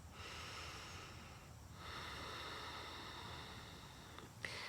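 Steady breathing through the nose, in and out, held during a yoga bow pose, faint and close with a soft hiss and a brief sharper exhale near the end.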